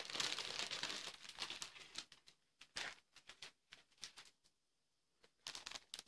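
A large plastic bag holding model kit parts for a German Ju 88A-14 bomber is opened, giving loud crinkling and rustling at first, then softer scattered crackles and taps, close by.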